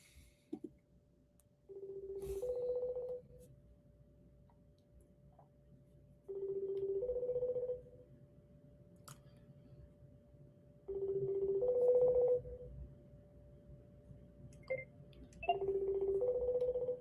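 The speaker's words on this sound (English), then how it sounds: "It's ringing." Outgoing telephone call ringing back: four evenly spaced two-tone rings about every five seconds, each lasting over a second, clear and fairly close over quiet line hiss.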